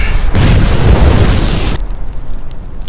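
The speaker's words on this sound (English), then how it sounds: "Explosions!" A loud cartoon-style explosion booms in the artillery video game Worms Reloaded, a heavy rumbling blast lasting over a second before cutting off to quiet background.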